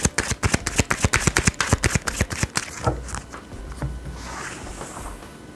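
Tarot cards being shuffled and drawn, a rapid run of crisp, close riffling slaps for about three seconds, then softer sliding and rustling as cards are pulled and laid out, with no talking.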